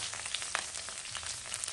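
Onion leaves frying in a pan give off a continuous crackling sizzle with scattered sharp pops, steady and close, and nobody talks over it.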